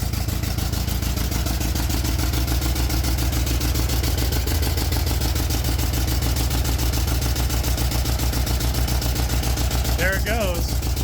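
An old, cheap auction tractor engine idles roughly on only three cylinders, a loud, steady, pulsing chug that runs without a break, with a short chirping sound near the end.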